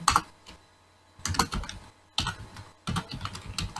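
Code being typed on a computer keyboard, heard as four close, crisp bursts of rapid key clatter separated by short pauses, with no talking.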